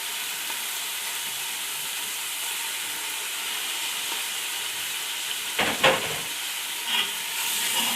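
Steady hiss and sizzle of meat frying in a pan with browned garlic for haleem, with a few brief clatters of stirring partway through and no voices.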